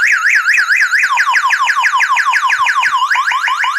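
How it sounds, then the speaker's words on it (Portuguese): A loud electronic alarm from a miniature toy car wails continuously, its pitch sweeping up and down rapidly in a repeating warble with no pauses. "Sistema de alarme e tudo, ó."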